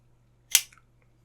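A Hoo V2 folding knife with a satin-finish blade snaps sharply open or shut, a single crisp metallic click with a faint follow-up tick, close and isolated in a quiet room.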